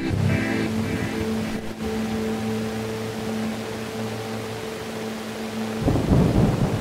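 Video game rain and thunder at a watermill: low rumbling thunder under a steady wash of rain, with a sustained humming tone and a heavier surge of noise near the end.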